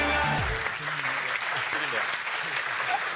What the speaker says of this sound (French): applaudissements pour toi